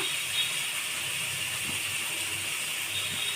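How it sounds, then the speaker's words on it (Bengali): Spice paste with turmeric and chilli powder fries in a pan for a fish curry with potato and brinjal, giving a steady close hiss that runs unbroken throughout. "মশলাটা আমি একটু কষিয়ে নেব"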